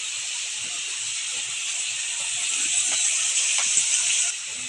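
Tomato fries in a pan for curry-leaf dal, giving a steady, bright hiss like steam that swells slightly before cutting off near the end, with faint clinks underneath and no talk.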